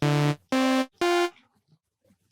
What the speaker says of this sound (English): Just some overdrive distortion.